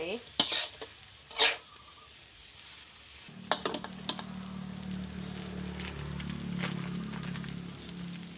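Rice with naem is stir-fried in a wok: a few sharp spatula clanks against the pan, then a steady soft sizzle with scraping stirs beneath.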